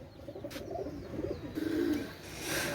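Pigeons at a bird market coo softly in low, rolling bursts, with a brief higher bird call and some background rustle; quiet and fairly close.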